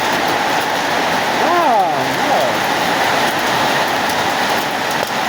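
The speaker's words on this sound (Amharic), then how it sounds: "ከባድ በረዶ እየጣለ ነው።" Heavy hail pours down in a dense, steady roar of pelting ice that stays loud throughout, with a brief voice breaking through midway.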